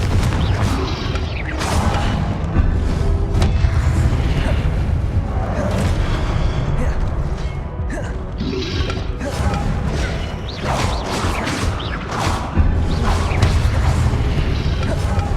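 Repeated Confringo spell blasts in Hogwarts Legacy, loud booming explosions and crashes with whooshing bursts, mixed with shield casts throughout a running fight.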